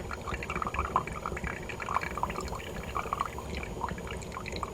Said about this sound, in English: once it begins to extract, it goes pretty fast